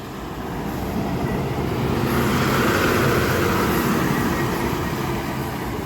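A bus climbing a hill road past a tea garden in light drizzle, heard as a steady broadband engine-and-road rumble that swells toward the middle and eases off slightly at the end, with no voices.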